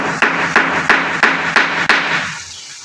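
Cumin seeds are pounded by hand while cooking a village-style mutton liver curry, six sharp evenly spaced thuds in a steady rhythm, loud and close, then silence.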